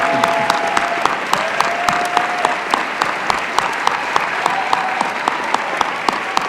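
Sustained loud applause from the audience at a university physics graduation ceremony in Berkeley, a dense, even wash of clapping with individual claps popping out throughout.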